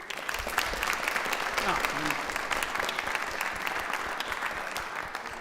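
A lecture audience breaks into steady applause, a dense wash of many hands clapping at a fairly even level for several seconds, with a few voices faintly audible underneath.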